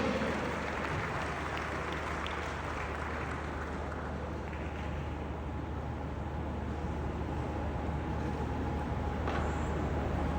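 An audience at a large plenary event applauds as a group of children walks onto the stage. The clapping is steady but muffled and faint, and a low hum runs underneath it.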